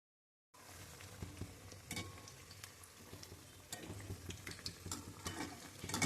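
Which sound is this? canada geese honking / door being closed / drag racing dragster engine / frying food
frying food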